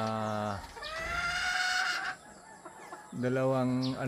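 Kelso and Roundhead gamefowl hens cluck and call close by, two loud bursts of harsh, stacked vocalizations with a quieter stretch between, unaccompanied by talking.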